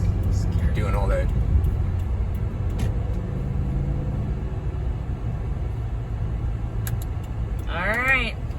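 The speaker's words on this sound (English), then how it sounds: "we're gonna do stop and go traffic for a while now" A car in stop-and-go traffic on a drive through California from Napa to Monterey County gives off a steady low cabin rumble, with voices talking over it throughout.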